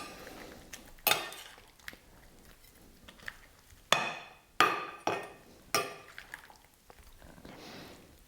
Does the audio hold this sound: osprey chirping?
no